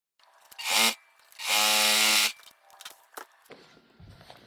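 A sewing machine stitches fabric for a pencil case in two close whirring bursts, a short one then a longer steady run, followed by faint handling noises.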